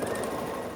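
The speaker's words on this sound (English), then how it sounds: "we'll just sew these pieces to the middle one to complete the center star" A sewing machine stitches quilt block pieces together for a star block, making a brief, steady mechanical whir that runs close and continuous.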